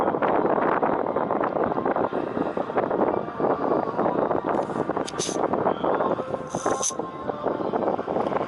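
Wind buffets a muff-covered microphone at the shore in a loud, continuous low roar that fills the whole stretch, with a few faint higher tones breaking through near the end.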